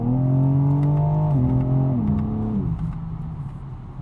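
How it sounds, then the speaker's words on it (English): A BMW M4 xDrive with all-wheel drive accelerates at partial throttle, the engine droning loud and close as its pitch climbs and steps through gear changes before easing off, with no talking. "just see there, that was just a little bit acceleration, not even full throttle."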